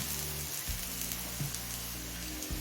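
Chopped onions frying in a pan until lightly browned for a loti chicken curry; a steady, close sizzle hisses throughout, with a low hum underneath.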